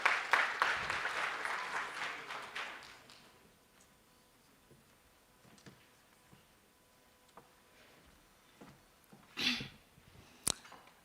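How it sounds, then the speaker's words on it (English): Audience applause at a parole review summit welcoming a speaker, a burst of clapping for about three seconds that fades to near silence with a few faint scattered claps and small noises afterward. "Can we welcome her with a round of applause?"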